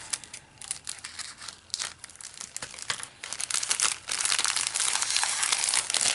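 A package being cut open, with crisp crinkling and tearing of plastic or paper wrapping in close, irregular bursts that grow louder and denser toward the end.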